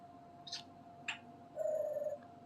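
Pet bird Smokey imitating a pigeon: two quick high chirps followed by a low, soft cooing warble lasting about half a second, close and fairly quiet against room hum.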